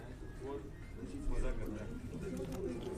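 Pigeons coo steadily at a racing-pigeon loft in Rawalpindi, a dense low murmur of overlapping calls that carries on throughout, with faint voices mixed in.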